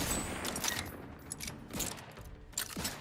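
Rapid bursts of shotgun fire in the video game The Outer Worlds 2, several loud blasts in quick succession amid a noisy combat mix.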